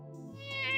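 A human voice imitates a cat's small meow, a brief tonal call that rises in pitch and loudness toward its end.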